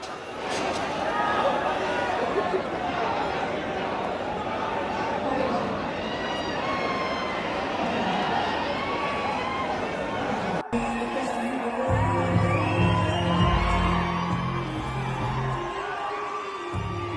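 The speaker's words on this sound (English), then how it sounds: "these visuals are from the spot showing the actress being jostled amid the crowd" A dense crowd jostles around an actress at Lulu Mall in Hyderabad, with shouts, whoops and overlapping voices in a loud, continuous hubbub. The scene changes partway through to a louder, rougher stretch.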